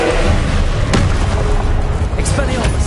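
A Confringo blasting-curse explosion from Hogwarts Legacy on PS5 sounds as a loud, dense roar with a sharp burst near the one-second mark, under steady game noise and voices.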